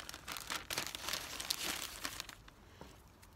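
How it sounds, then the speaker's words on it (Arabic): A plain plastic freezer bag of the kind used for storing meat crinkles and rustles softly up close for a few seconds, quiet and with no talking. "كيس عادي اللي هو بيستخدموه في تفريج اللحوم والأشياء لما تحطوا أشياء في الفريزر"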